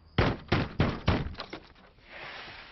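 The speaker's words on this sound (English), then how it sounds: "Janice, open the door!" A fist pounds on a door in a run of four heavy, evenly spaced bangs, then a few quicker, lighter knocks trailing off, loud and close with no voices.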